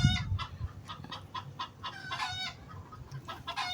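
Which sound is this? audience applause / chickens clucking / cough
chickens clucking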